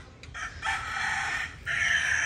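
A chicken, a rooster, crows loudly and close by in Dumaguete, two long calls with a short break between them, with no talk over them.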